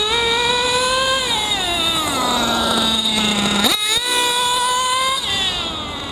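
A Hyper 21 nitro engine screams with a high, buzzy whine, bogging down briefly, then revving sharply upward before settling and climbing again, loud and close with no voices.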